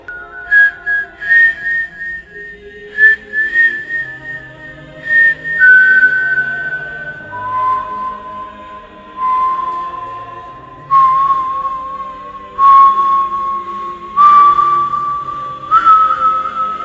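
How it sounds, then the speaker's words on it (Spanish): A person whistles a slow, wavering melody, notes held long and sliding, clear and close with no other sounds around. "sienten un silbido."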